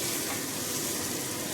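Besan bhurji sizzles and crackles in a pan while being stirred and turned, a dense, steady frying hiss that stays close and even throughout with no voices.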